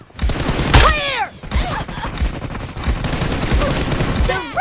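Gunfire in the video game PUBG Mobile, loud close shots in quick bursts with a few whizzing ricochet-like sweeps, set over steady game noise.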